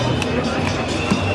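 A crowd on a Corona protest march in Vienna makes a dense, close hubbub of overlapping voices and footsteps throughout the short stretch.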